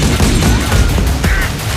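Gunfire with bullets ricocheting off walls in an AI-generated film action scene: a dense, loud, continuous barrage of sharp cracks and impacts, with a few brighter whining ricochets standing out near the end.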